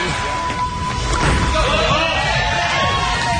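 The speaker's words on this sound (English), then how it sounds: "This crowd wants to get into it." A bowling crowd at a Hall of Fame Classic event cheers and yells in a loud, continuous roar, with commentators talking over the noise.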